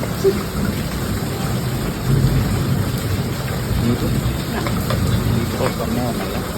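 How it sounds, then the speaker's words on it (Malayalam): Heavy rain with thunder at Kumbalangi near Kochi, a steady broadband wash of downpour with low rumbling swells, continuous and fairly loud, with muffled voices underneath. "പക്ഷെ അത് ഭയങ്കര മഴ"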